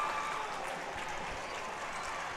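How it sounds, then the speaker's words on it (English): A crowd at a high school volleyball regional quarter-final (IHSA Class 1A, Wethersfield vs A-Town) cheers and applauds at set point as one steady, dense roar that fills the gym. "This crowd is going nuts."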